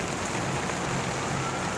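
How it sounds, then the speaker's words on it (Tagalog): Dense, steady downpour hissing without pause, loud and close, with no voices. "Lakas ng ulan."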